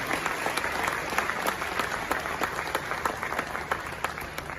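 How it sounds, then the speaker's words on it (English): Sustained applause from a large crowd at the 29th GJA Awards at Manhyia, dense clapping throughout at an even level, with no voices standing out. "Shall we do a resounding round of applause"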